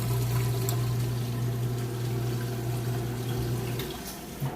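Steady rushing of water draining through a Maytag washing machine's pump after the wash cycle, a constant low hum with watery gurgle throughout, fairly loud and without voices.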